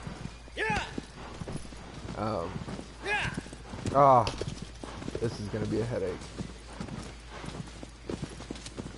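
A horse's hooves clip-clop in Shadow of the Colossus on the PS4 remake, rhythmic thuds moving along under steady talk from a player.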